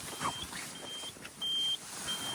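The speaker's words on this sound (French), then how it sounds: "Alors ça bip de partout." A Porsche 968 gives off warning beeps: a series of short and longer high electronic tones at irregular intervals over faint car and wind noise.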